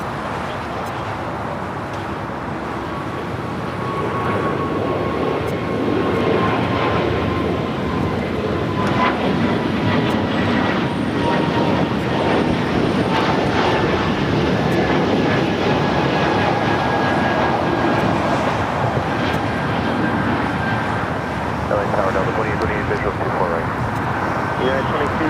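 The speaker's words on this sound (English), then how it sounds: "Also have that Philippine A330 now pushing back." A Philippine Airlines A330 airliner pushing back at LAX gives a steady, loud jet and engine rumble with a high whine that holds throughout. Someone talks over it.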